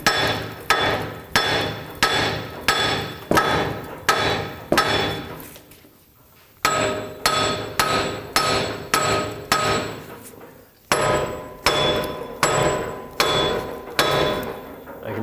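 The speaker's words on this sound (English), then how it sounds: "so I'm going to use my hammer and just hammer it from side to side" Hammer blows ring out on a rusted front wheel bearing and hub of a 2007-2010 Chrysler Sebring, struck side to side in fast, steady bursts of sharp metallic clangs, loud and close, with two short pauses.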